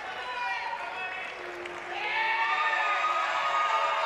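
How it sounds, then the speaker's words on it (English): A crowd at a women's heavyweight jiu-jitsu match at the Miami Grand Slam 2023 applauds and cheers after a takedown, swelling louder partway through, with a commentator talking over it. "The crowd respond."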